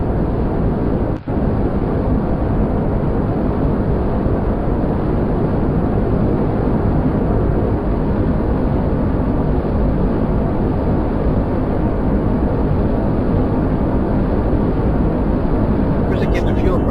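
Rocket engine liftoff in the Kerbal Space Program game: a steady, loud, broadband roar holds for the whole stretch, with one brief dropout early on and no voices.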